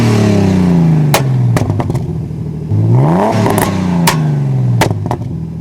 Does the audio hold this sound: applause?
no